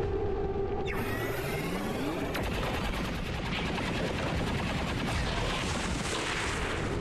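Weapon fire in XCOM 2 with a mechanical whir and a sharp report, followed by a steady rapid rattling burst that holds loud and close to the end, with no talking.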